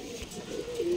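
Rajshahi Giribaz pigeons coo in a short, close burst, with voices talking faintly underneath.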